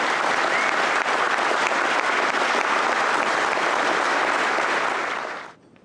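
A large luncheon crowd applauds scholar athletes at a football awards event, dense, loud, even clapping that holds steady for about five seconds and then cuts off quickly.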